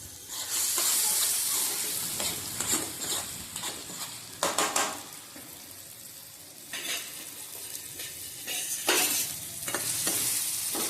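Raw mango pieces cook in oil with salt while being stirred: a steady sizzle is broken by bursts of spoon scraping and clinks against the pan, close and fairly loud, with no talking.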